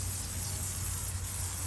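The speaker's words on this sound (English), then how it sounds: "get yourself some WD-40 or liquid wrench" WD-40 is sprayed onto the plastic of a car fuse box on a BMW E28 in a steady, close hiss that lasts the whole short moment, alone.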